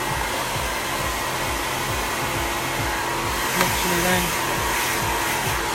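A hair dryer fitted with a nozzle blows loudly and continuously up close while curly hair is dried in sections during a layered bob cut, and a brief voice comes through over it.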